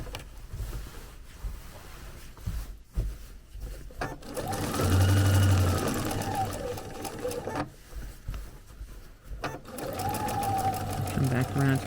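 A sewing machine quilts a Christmas quilt, running in loud, steady, fast bursts between pauses as fabric is pushed through, with a person talking over parts of it.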